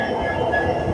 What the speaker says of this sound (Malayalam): നമ്മുടെ ലോക്കോമോട്ടീവ് വരുന്നത് WDP 4D ആണ്. അതായത് ഒരു ഡീസൽ ലോക്കോമോട്ടീവാണ്.